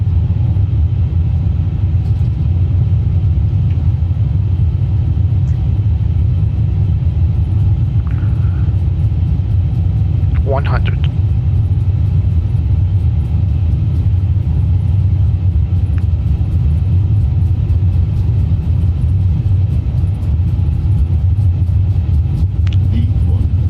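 Airbus A350 engines at takeoff thrust in a flight simulator produce a heavy, unbroken low roar, loud and constant throughout, with a couple of faint short tones and clicks sounding briefly partway through.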